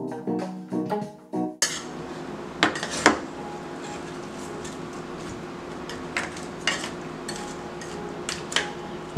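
Large shrimp being dropped into a pot for a small shrimp boil start with a wet, thudding splash, followed by a run of metallic clinks and light knocks against the pot over a constant low background hum.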